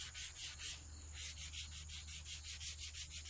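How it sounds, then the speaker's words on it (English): Rhythmic hand sanding, close and steady, with strokes rasping back and forth about three times a second and one brief pause. "What I'm sanding is this top edge"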